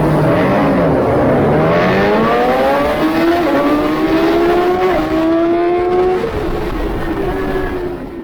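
A BMW S1000RR superbike racing at Oulton Park, its engine howling loud and close as it climbs through the revs and shifts gears, the whine sweeping upward in repeated runs before easing off at the end.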